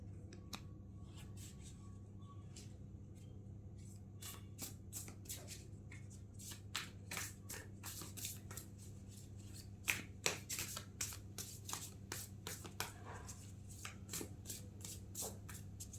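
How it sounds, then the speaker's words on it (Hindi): Tarot cards being shuffled by hand, a long run of crisp flicking riffles and card slaps over a steady low hum, fairly close and with no talking. "थोड़ा मैं कार्ड्स जमा लूँ उसके बाद।"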